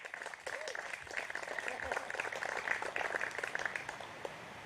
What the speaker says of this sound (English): So a round of applause for the boys.